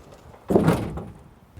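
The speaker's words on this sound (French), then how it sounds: "On peut maintenant fermer le capot et monter à bord." The hood of a bus is closed and secured after an inspection, giving one solid muffled thunk with a brief rattle and then quiet.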